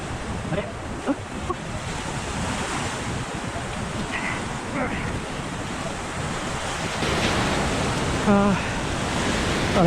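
Steady wash of surf breaking on a beach, with wind buffeting the microphone, continuous and fairly loud across the whole stretch, swelling slightly near the end.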